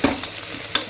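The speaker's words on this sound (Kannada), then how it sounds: "ಫಸ್ಟ್ ಒಂಚೂರು ಸೋಯಾ ಚಂಕ್ಸ್ ಏನಿದೆ ಇದೆಲ್ಲ ನೀಟಾಗಿ ಒಂಚೂರು ಫ್ರೈ ಆಗಿದೆ ಅಷ್ಟೇ." Soya chunks fry in a pan, giving a short close burst of sizzling with a couple of stirring scrapes.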